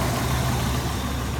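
The 6.8-litre V10 of a rusty 2000 Ford Excursion Limited 4x4 runs at a steady low rumble, a continuous even drone with no talk over it.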